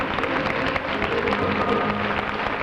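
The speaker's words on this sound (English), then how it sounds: "How about giving Grandma Cropper a nice round of applause" Studio audience of a daytime TV show claps, a short steady round of applause with a muffled, boxy quality.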